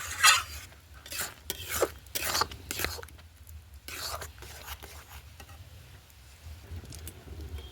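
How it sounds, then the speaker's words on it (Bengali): Biscuit payesh, a milk pudding, simmering in a pot with intermittent scraping and stirring strokes against the metal, soft bubbling and clinks between the louder sweeps. "তো এটা দিয়েও আমি 5-6 মিনিটের মতো ফুটিয়ে নেব।"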